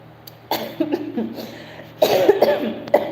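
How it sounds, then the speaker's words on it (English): A person coughs in two harsh bursts, one after a short pause, close to the microphone in an otherwise quiet room. "Let me then cough because this is too much on me."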